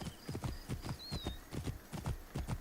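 Horse hooves clip-clop in a steady galloping rhythm in Assassin's Creed Origins, close and continuous across the whole moment, with a faint whinny-like tone riding above the beats.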